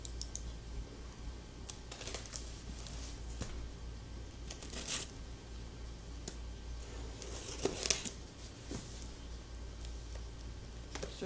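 A cardboard box is torn open at a mail call for service dogs, heard as scattered crackling rips and soft clicks over a quiet background, with two louder tearing bursts.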